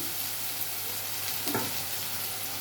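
Tomatoes sizzle steadily in a pan with ginger-garlic paste and turmeric, a dense, even crackle close up with a brief stirring scrape partway through.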